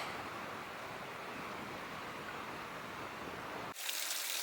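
Water from a water feature by Deer Lake in Olympic National Park rushes and splashes in a steady, broadband wash, then shifts abruptly to a thinner, hissier flow near the end.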